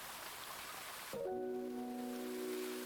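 Steady rain hisses throughout in the video game Ame no Marginal, and a few seconds in a soft tonal music chord enters and sustains over the rainfall.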